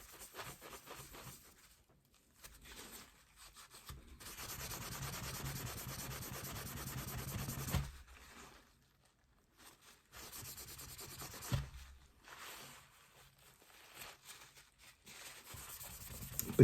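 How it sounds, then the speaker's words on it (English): 500 grit sandpaper rubs over a wooden knife handle in long, soft scratchy passes, sustained strokes broken by brief pauses, fairly faint and close. "You do a rub over with your 500 grit sandpaper"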